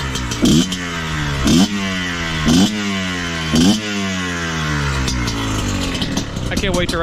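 Kayo KT 250 two-stroke dirt bike engine running in cold weather, a steady buzzing idle broken by four short, sharp revs about once a second before settling back to a rough, rising drone.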